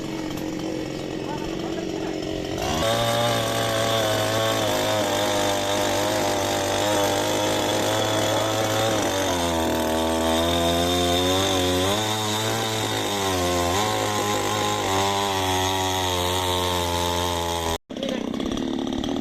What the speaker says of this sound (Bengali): গাইজ এটা হচ্ছে গাছ কাটার মেশিন